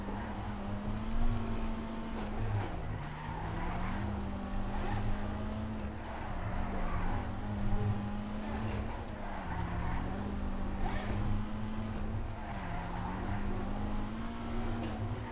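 A Flash GT sports car in GTA 5 drifts around a lap, its engine holding a steady, wavering note that dips and climbs as the throttle shifts, with no talk over it.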